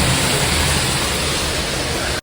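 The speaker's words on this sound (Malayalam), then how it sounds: "നല്ല മഴ പെയ്യുന്നുണ്ട് കേട്ടോ" Dense, steady roar of heavy rain pouring down without a break, loud and close, cutting off abruptly at the very end.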